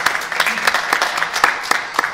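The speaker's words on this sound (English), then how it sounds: "when I hear applause, I'm always taken back" An audience at a live discussion of "The Normal Heart" claps in a brief burst, moderately loud crowd applause with distinct individual claps, lasting about two seconds.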